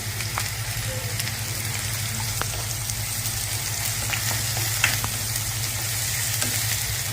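Chopped onion sizzles and fries in a pan with garlic paste and curry leaves for a sprouted-bean usal curry: a continuous crackling sizzle with occasional stirring clicks and no talking.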